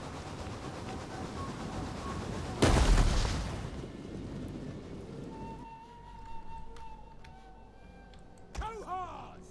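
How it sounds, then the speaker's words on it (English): Enemy soldiers firing on a walled garrison in Total War: Attila, a heavy burst of battle noise and booms near three seconds within a continuous din, with softer crackles later and a final sharp impact. "They're shooting us, wasting their ammunition."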